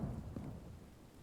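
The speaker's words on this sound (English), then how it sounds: "that thunder is loud" Loud thunder in the survival video game The Infected rolls in as a deep rumble that fades over about a second, with a soft rain-like hiss beneath and no speech.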